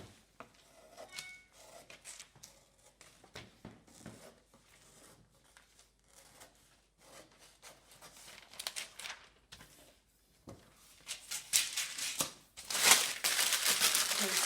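Scissors cut away the top edge of a paper skirt pattern with a run of faint, irregular snips and crinkles. The paper rustling grows louder toward the end, and a voice speaks intermittently over it.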